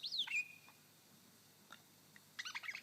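A lyrebird in a Victorian forest mimics a grey thrush: a bright, rising-and-falling whistled phrase opens, a few faint notes follow, then a closing burst of rapid chirpy notes, all fairly clear with no talking.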